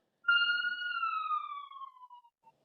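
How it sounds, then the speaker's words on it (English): A single siren wail rises and slowly glides downward over about two seconds, clear and fairly loud against silence. "and then the sirens came"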